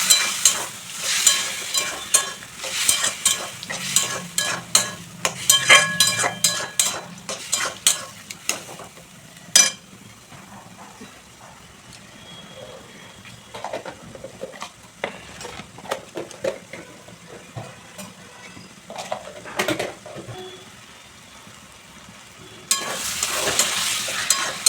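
Boiled taro stolons are stir-fried with cooked-down spices in a pan, a long, busy sizzle broken by repeated scraping and clattering of a spatula, loud and close with no speech.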